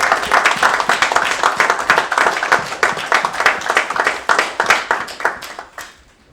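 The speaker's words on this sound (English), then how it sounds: "I'll do a round of applause." Welcoming rugby star Sonny Bill Williams at a press conference, a small audience claps steadily, a moderate round of applause with distinct hand claps that tapers off at the end.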